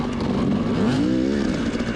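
A motorcycle engine fitted with an XTNG Gen3 Pro carburetor runs running rich and pinging, close and loud, its pitch rising and falling slightly in a brief rev.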